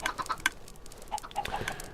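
Chickens on a game chicken farm clucking close by, a quick cluster of short squawky clucks followed by a few more scattered ones, no voices.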